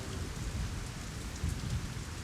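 Steady rain falling under a clear sky that has turned to rain, a dense, even hiss of drops with a low rumbling undertone, continuous and fairly soft, with no voices.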